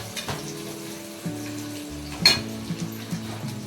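Onions fry in a pan under a low continuous sizzle, while a utensil stirs and scrapes occasionally, with one sharper clink midway; no voices.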